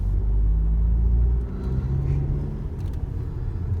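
A used car with about 300,000 km on it accelerates while driving, giving a loud, low engine rumble that drops after a second and a half and then continues as steadier road and engine noise.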